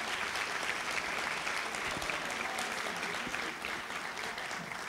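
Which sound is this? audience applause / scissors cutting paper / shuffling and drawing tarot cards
audience applause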